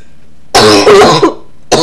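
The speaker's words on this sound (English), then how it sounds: "you're going to make me cough" Coughing bursts in a quiet room, a loud fit of roughly a second followed by a brief second cough, throat-clearing in character, with no talk.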